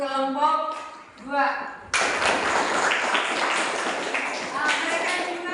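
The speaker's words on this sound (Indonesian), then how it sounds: "tepuk tangan dulu untuk kelompok 2" Classroom applause for a student group bursts in suddenly after a teacher's voice and continues as dense, close clapping from many hands for several seconds.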